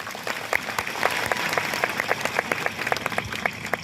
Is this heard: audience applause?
yes